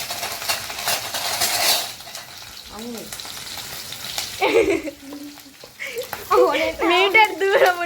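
Chillies fry in a pan with a bright sizzle at first, then clatter of utensils against cookware, with people talking and a voice over the kitchen noise.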